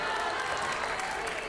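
A studio audience at a televised Indian news interview show breaks into sustained applause, a dense, even wash of clapping from many hands filling the whole moment without letup.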